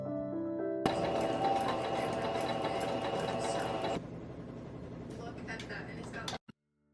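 A sewing machine stitches a sewing project with a steady whirring drone for a few seconds, then continues more quietly; a soft voice and faint background music are present.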